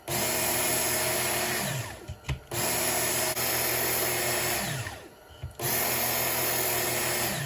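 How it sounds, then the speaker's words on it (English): A Work Sharp knife sharpener running with a leather-like honing belt, a loud close motor whine with belt hiss that dips twice as a blade is drawn through and the motor briefly slows. "Now I've switched over to the honing belt, which is kind of like using a leather strap"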